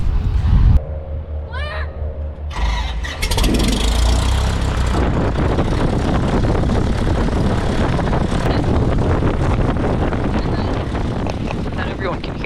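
A Cessna 172's engine and propeller roar up loudly and steadily after a brief interior pause, a close, constant drone filling the cabin.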